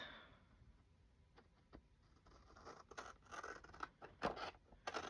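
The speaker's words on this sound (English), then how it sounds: "Let me get my glue scissors and cut these." Glue scissors cut through cardstock for a journal project, a series of crisp snipping and scratchy slicing sounds close by, growing busier and louder toward the end in a quiet room.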